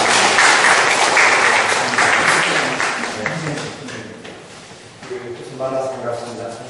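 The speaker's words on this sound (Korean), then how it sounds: "그러면 우리 황홍규 선생님을 뜨거운 박수로 맞이해주시기 바랍니다." Audience applause greets a speaker at a Korean seminar on international development cooperation and ODA, a dense, steady clapping from a seated crowd that gradually thins out over several seconds.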